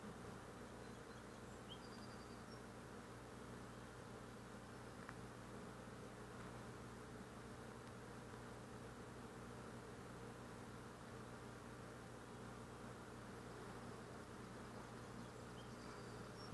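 Honeybees buzzing steadily around an opened hive during an inspection of a colony that recently swarmed, a dense continuous drone close to the microphone with no talk.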